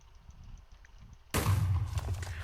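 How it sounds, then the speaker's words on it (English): A sudden loud blast of a Minecraft explosion sound effect cuts in after a quiet stretch, with a booming burst that fades into a rumbling tail. "Explosive sound effect"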